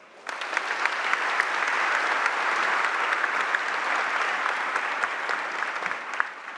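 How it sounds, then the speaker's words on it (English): Graduation ceremony audience breaking into warm applause, a broad sustained roar of many hands clapping that swells in quickly and stays full and even for several seconds. "So we can give them a warm applause."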